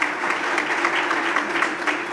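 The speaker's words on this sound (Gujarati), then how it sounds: "એને તાળીઓથી વધાવીએ." Applause from an audience at a Thursday talk program in Surat, a dense, even clapping that runs steadily throughout.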